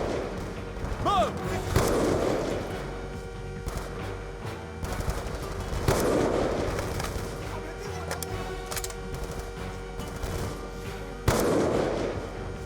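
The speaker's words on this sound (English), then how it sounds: "Mason is a beast by firing the 50 BMG standing up." Heavy .50 BMG machine gun fire in the Black Ops 2 campaign, sounding as booming bursts at a few spaced intervals over a dense game-combat bed with scattered other shots and battle noise.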